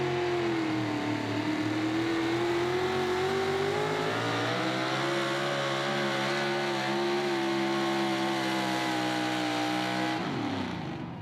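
A Pro Modified 4WD pulling truck's engine roars loud and close during a sled pull in Wheatland, Missouri, holding a steady high-pitched drone that sags as RPMs drop, then climbs back before cutting off at the end.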